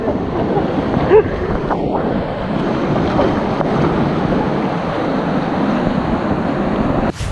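Rushing water on an outdoor river ride at a Dubai water park, a steady broadband wash that stays loud and even throughout with wind buffeting the microphone and faint voices in the background.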